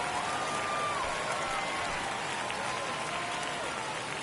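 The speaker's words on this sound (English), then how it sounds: "That fires up the home crowd, and the Yankees have the lead." Home crowd roars and applauds after a Yankees home run to deep left field in an MLB video game, a dense, steady wash of cheering that holds loud for the whole stretch while a faint announcer voice runs underneath.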